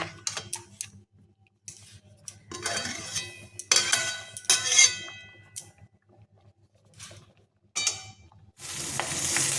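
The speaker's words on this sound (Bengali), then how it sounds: "সর্ষে তেলের ওপরে একটুখানি ঘি দিয়েছি দিয়ে কাঁচা লঙ্কা শুকনো লঙ্কা আর জিরে ফোড়ন দিয়েছি" Green and dried chilies with cumin sputter in mustard oil and ghee in short, sharp bursts of sizzle, broken by pauses. Metal utensils clang and scrape against the pan between the bursts.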